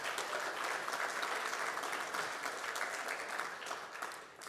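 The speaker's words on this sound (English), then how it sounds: "So let's give them a big round of applause." Sustained applause from an audience at a school district State of the District address, steady and full for several seconds, then tapering slightly at the end.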